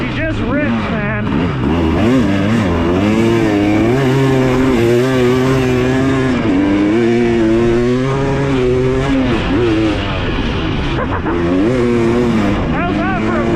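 A 2023 Husqvarna TX300 dirt bike engine on a break-in ride over desert rocks, loud and close, revving and rising and falling in pitch continuously with a raspy two-stroke buzz.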